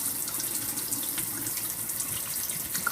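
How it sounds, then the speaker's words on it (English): A faucet runs in a steady, unbroken stream, filling a sink close by with constant hissing water and no voices. "I'm hoping that faucet's not too loud"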